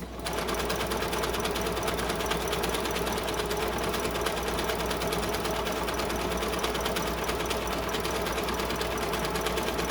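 A home sewing machine runs steadily at high speed, a dense, even mechanical whir that stays loud and unbroken throughout while stitching a fabric face mask tube.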